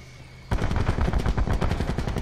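Rapid automatic gunfire erupts in the video game Apex Legends, a loud dense burst of shots that starts abruptly and continues without pause.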